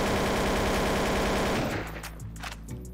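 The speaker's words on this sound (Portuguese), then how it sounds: "Deixa eu testar o spray dessa AK" Rapid automatic AK rifle spray in Counter-Strike: Source, a loud, dense stream of shots for about a second and a half, then cutting off into quieter scattered game sounds.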